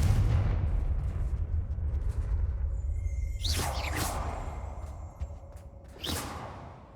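A Confringo fire spell explodes in the Hogwarts Legacy video game, giving two bright whooshing blasts over a low, steady rumble, the second burst landing about two and a half seconds after the first.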